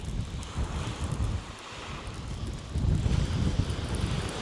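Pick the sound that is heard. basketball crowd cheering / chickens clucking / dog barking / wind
wind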